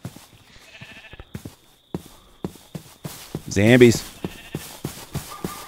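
Sheep bleating in the video game RLcraft, a wavering bleat rising briefly over footsteps and game noise, with a person talking throughout.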